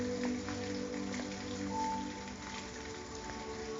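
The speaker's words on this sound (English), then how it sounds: "I think this is perfect that it's raining" Rain falls steadily, a soft, even patter close by with a faint tonal hum running underneath, fairly quiet throughout.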